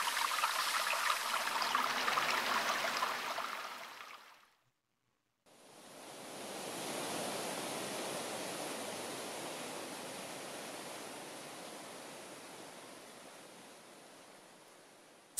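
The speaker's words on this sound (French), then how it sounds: "Voici quelques exemples de rivières souterraines." Broad, steady rushing water from an underground river in limestone, loud at first, cutting out briefly, then returning as a continuous roar that slowly fades.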